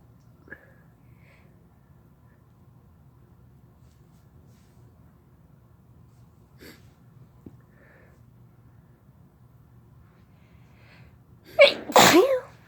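Sneezing fit brought on by chhinkni snuff: quiet sniffs and small stirrings, then a loud, close burst of sneezes near the end.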